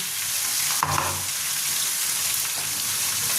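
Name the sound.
crab with chilli and cardamom paste being stirred in frying pan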